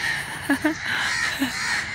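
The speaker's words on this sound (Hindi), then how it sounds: "सारे कौवे मेरे पीछे तो नहीं चढ़ गए" Several crows caw close by in short harsh calls, three clear bursts standing out against steady outdoor background hiss on a sunny day in Pakistan.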